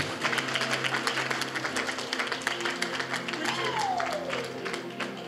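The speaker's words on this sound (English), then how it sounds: "Clap your hands if you can." A church congregation claps along at a sermon's close, a busy patter of hands under a reverberant hall sound with a sliding tone briefly rising above it.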